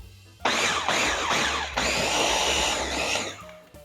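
A food processor whirs in several short pulses, chopping fresh tomato salsa, loud and close with brief gaps between bursts.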